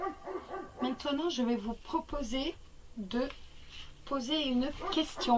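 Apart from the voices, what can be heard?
neighbour's dog barking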